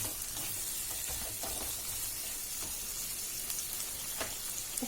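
Onions and green chillies fry in a pan for paneer butter masala, giving a steady close sizzle with soft stirring scrapes throughout.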